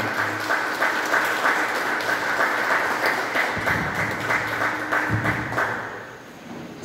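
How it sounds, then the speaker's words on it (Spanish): An audience at a church discipleship graduation ceremony in Honduras applauds, a sustained wash of clapping under hall reverberation, with a few low thumps and the applause fading near the end. "Aplauso para él."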